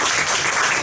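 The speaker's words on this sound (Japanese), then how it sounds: "拍手お願いします。" Audience at a Japanese business talk applauding, a brief, dense wash of many hands clapping at once, steady and fairly loud.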